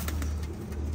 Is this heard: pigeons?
yes